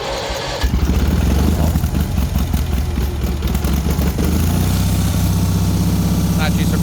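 An old tractor, left sitting a long time with the choke on, cranks and fires within a second, then settles into a loud, steady, rumbling idle that runs alone to the end.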